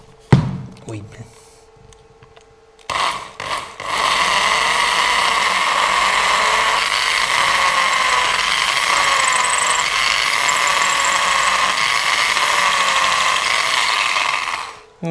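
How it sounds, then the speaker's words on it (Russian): A power drill bores holes while a skirting board is being installed, a steady, loud whirring drone that runs continuously for about eleven seconds after a few short starts, with a brief exclamation from a voice. "Сверлю."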